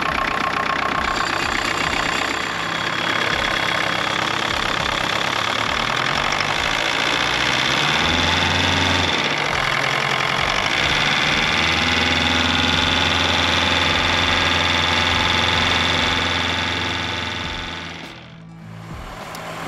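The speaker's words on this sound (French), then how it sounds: "là je suis en train de laisser chauffer le moteur. Il tourne au ralenti accéléré en fait, pour qu'il monte en température" A Panzercar engine held at a fast idle while it warms up, running steadily and loudly with a busy mechanical clatter for most of the stretch, then dropping off sharply near the end.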